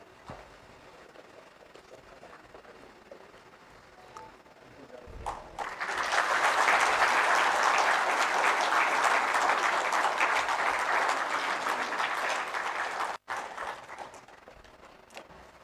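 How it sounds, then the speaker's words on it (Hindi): An audience at a Jharkhand administrative service association event claps to welcome a state minister. Quiet room tone leads into a sudden burst of loud, sustained applause that holds for about seven seconds, then cuts off and leaves a faint murmur. "माननीय मंत्री का जोरदार तालियों से स्वागत किया जाए।"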